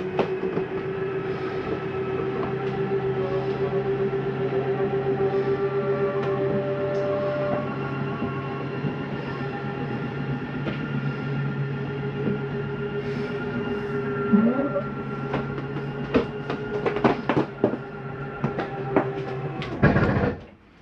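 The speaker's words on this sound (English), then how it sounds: "That's the slide mechanism telling itself not to go in any further." A Jayco Eagle 30 5CKTS RV slide-out retracts with a steady, droning motor hum throughout, then a cluster of sharp clicks and knocks toward the end as the mechanism reaches its stop.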